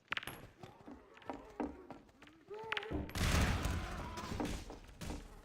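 A grenade explosion in Half-Life 2 hits at about three seconds, a loud broadband blast after scattered thumps and shots, with someone speaking faintly in between.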